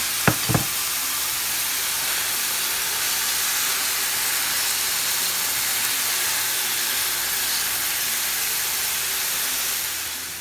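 Minced meat fries in a pan with a steady, even sizzling hiss that runs the whole time, opened by two sharp knocks at the start, with no voices.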